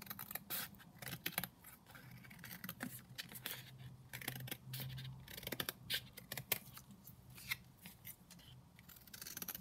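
Scissors trimming fabric around a glued-down fabric tag, faint close rapid snips and rustling of cloth continuing steadily throughout.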